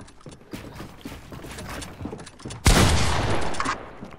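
Gunfire in a video game, rapid clicky mechanical shots in bursts, then a loud sustained blast of firing near the end.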